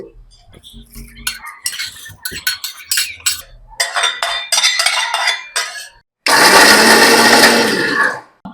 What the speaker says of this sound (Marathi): मसाला आपण मिक्सर मिक्सरमध्ये टाकला थोडासा बारीक केला